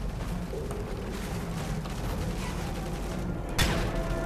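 Rapid gunfire crackles in a dense, chaotic battle soundscape in Call of Duty Modern Warfare 3, ending with a sharp, louder blast.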